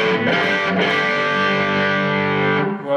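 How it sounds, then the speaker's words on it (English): A sustained chord rings through an electric guitar on a pedalboard's distortion channel, thick and buzzing, held loudly for a few seconds before cutting off. "On the other side, we've got more of a distortion channel."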